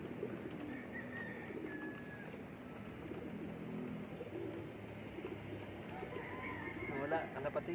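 Pigeons at a loft coo softly in low, rolling calls amid steady outdoor background noise, while someone talks over them throughout.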